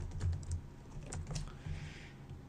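Rapid keystrokes on a computer keyboard as Arduino serial-communication code is typed, a steady run of soft, close clicks with short pauses and no voice.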